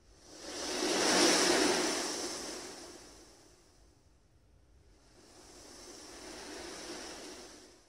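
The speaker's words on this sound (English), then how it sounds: "It says BGM music, but sounds of waves," Recorded ocean waves played as white noise from a small Japanese hotel room's bedside sound dial, a steady broadband wash that swells loud, fades almost to silence, then rises again more softly, with no talking.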